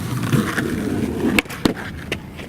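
A skateboard rolls with a continuous rough grinding rumble during a frontside 180 attempt, followed by several sharp clacks and slaps as the board lands and hits the ground.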